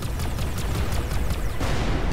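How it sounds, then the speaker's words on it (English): Dense, continuous blasts and rapid bursts pile up into a loud, noisy barrage of explosions in the space game Everspace 2. "Explosions are cool!"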